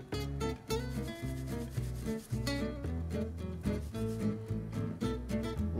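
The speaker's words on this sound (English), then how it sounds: "Scrub it till you see the pink of the skin" Sweet potatoes scrubbed with quick, steady back-and-forth rubbing strokes, close and continuous, with a rhythmic scratchy texture throughout.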